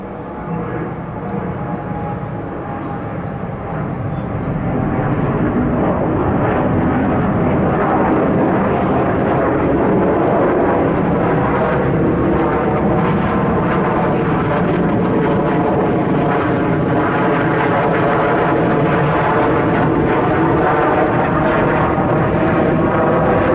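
Airliner taking off from runway 26 left at Atlanta International Airport, a loud, sustained engine roar that swells over the first few seconds and then holds steady, heard from nearby.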